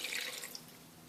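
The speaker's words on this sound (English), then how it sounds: "Adding in 1 cup of water," One cup of water poured into a pot for a kiwi and apple compote, a brief, quiet hiss and splash that trails off within a second.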